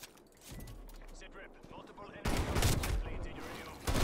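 Shotgun gunfire in the Black Ops Cold War video game, with a burst of loud blasts in the second half under a voice talking throughout.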